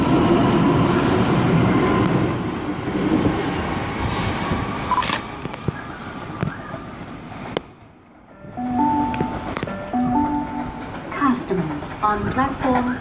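A Sydney Trains Waratah set departs platform 3 at Concord West station bound for Epping, a loud rumbling roar of the moving train that fades, then a quieter stretch with tonal squeals and hums from the railway, with someone talking over it.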